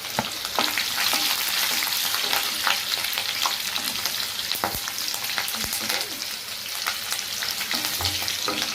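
Green chillies fry in hot oil with ginger and garlic for a coconut-free fish curry, giving a steady, close, dense sizzle with occasional crackles and stirring scrapes throughout, with no talking.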